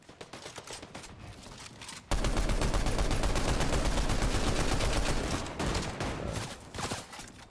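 Rapid automatic gunfire in the video game Fortnite during a live duo cash cup tournament, a loud sustained burst after a quieter stretch of scattered shots, dense and continuous before tapering into a few more bursts.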